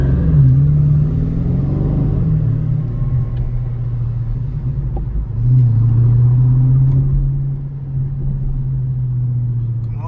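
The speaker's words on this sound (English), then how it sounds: "Let's hear this engine." A 2019 Dodge Charger Scat Pack engine rumbles loudly from inside the car, its deep drone rising in revs twice while driving in traffic.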